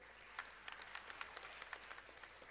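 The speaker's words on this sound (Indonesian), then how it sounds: "Tepuk tangan." A church congregation claps in applause during a Sunday sermon, a soft, fairly distant patter of scattered hand claps that comes in irregular bursts over a faint room hum.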